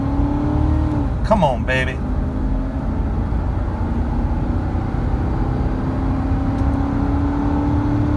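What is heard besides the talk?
2004 Ford Expedition Eddie Bauer accelerating at full throttle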